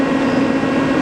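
A Milltronics CNC flat bed teach lathe runs its spindle at 350 RPM, giving a steady, quiet mechanical hum with a low, even tone and no talking.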